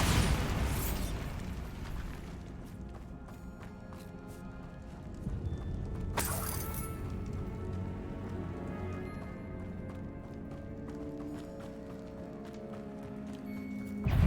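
A Bombarda spell blast in Hogwarts Legacy, a sharp broadband burst around six seconds in over a continuous low rumbling game soundtrack with scattered clicks and hits.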